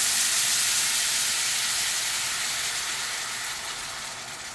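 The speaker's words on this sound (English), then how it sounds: "we are now going to take the rest of our marinade and add it into the pan" Marinade sizzles and steams loudly in a hot pan on high heat, a broad continuous hiss that slowly eases over several seconds.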